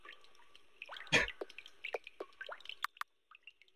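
Water drips from a leaky faucet in the bathroom of the video game Hansel: Find Me Again, a close string of small irregular plinks and splashes with one louder splash early on, and no voices over it.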